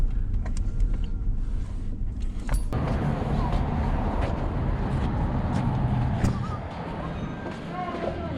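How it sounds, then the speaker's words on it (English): A pickup truck with a worn transmission that struggles to go into first gear runs steadily with a dense, rough mechanical rumble and whine, close and continuous, while someone speaks over it. "this transmission doesn't sound too hot in this truck"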